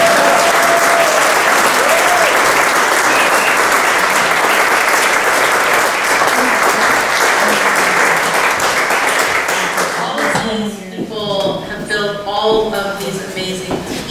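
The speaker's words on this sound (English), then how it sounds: "Let's give them another round of applause" Audience applause at an environmental awards ceremony: loud, dense clapping from a full room for about ten seconds, then fading as a person starts speaking.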